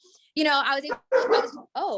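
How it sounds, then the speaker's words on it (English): German Shepherd dogs bark indoors at close range in three loud, tonal bursts separated by brief pauses, with a whining, yelping edge. "sorry, my dogs. Someone wants to get on camera. My German Shepherds."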